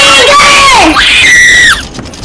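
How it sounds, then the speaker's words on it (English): Loud, piercing screams from a video being played back: one long shriek falls in pitch, then a second high wail holds and drops off, leaving quieter background noise. "Why are they screaming so loud?"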